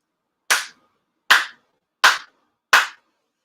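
Four sincere ceremonial hand claps at a Tenchi Kane no Kami grand ceremony, sharp and evenly spaced about 0.75 seconds apart, each ringing briefly before silence.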